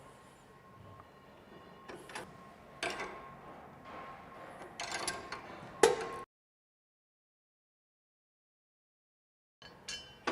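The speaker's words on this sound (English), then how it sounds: "Take 2 3/4 inch wrenches. Back these off here." Two 3/4-inch wrenches back off bolts on a Spartan mower deck height interchange kit, giving sharp metallic clanks and scraping in bursts, then a silent gap before a brief final clink.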